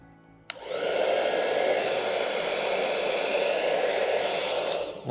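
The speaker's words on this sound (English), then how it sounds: "So the blow dryer is too big for this." A blow dryer switches on with a sharp click and then runs at a steady, whirring hum while drying an alcohol ink painting, continuing unbroken until it cuts off at the end.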